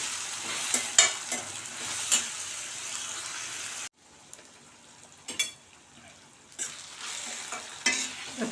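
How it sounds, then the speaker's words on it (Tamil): Tomatoes and salt sauté in a pan for a Tamil lentil-ball kuzhambu, with a steady sizzle and scraping stirs, then quieter stirring and clinks after a sudden drop in heat noise. "குழம்புக்கு தேவையான அளவு உப்பு சேர்த்து நல்லா வதக்கி விட்டுக்கலாம்."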